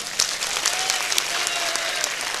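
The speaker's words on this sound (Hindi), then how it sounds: "एक बार ताली बजाओ इनके लिए।" An audience at a religious discourse on the Sundarkand bursts into dense, sustained clapping that continues loudly throughout.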